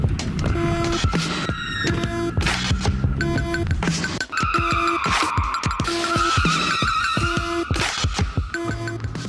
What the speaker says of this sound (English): the car would be driving around below the camera